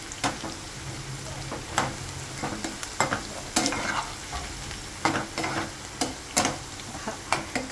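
Potatoes frying in a pan, sizzling steadily with repeated sharp scraping stir strokes scattered throughout, close and fairly loud, with no talking.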